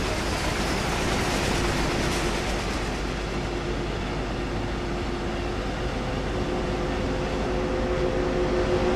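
A train in the video game Train Sim World rolls along steadily with a constant rumbling drone and faint tonal whine, loud and continuous throughout with no voices.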